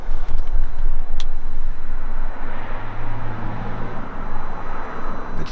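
Cars pass outside a parked Mercedes Marco Polo camper van, a steady low traffic rumble heard from inside, with one brief hum swelling through the middle and a faint tick early on.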